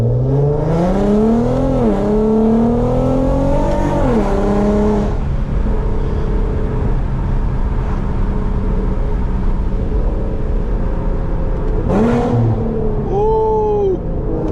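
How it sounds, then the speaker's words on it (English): Loud exhaust of a 400 whp Infiniti Q50 revving hard through a pull, a rising engine roar with gear-change dips, then steady cruising rumble and another brief sharp rev near the end. "this car is loud"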